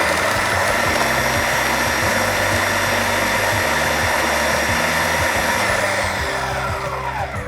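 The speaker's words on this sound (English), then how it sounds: "you just get your food processing machine" A food processor blitzes salsa verde with a loud, steady whirring motor and a churning chop of herbs against the blade, running continuously before easing slightly near the end.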